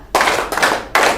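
A group of students in a classroom warm-up claps hands together in short sharp bursts, three distinct loud unison claps spaced unevenly over about a second.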